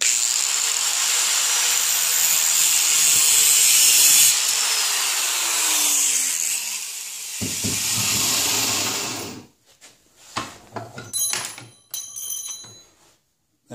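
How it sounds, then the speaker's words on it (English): An angle grinder cuts through a metal spoon, a long loud sustained whine and rasp that wavers in pitch before stopping, followed by scattered clanks and handling knocks. "I just use an angle grinder for this."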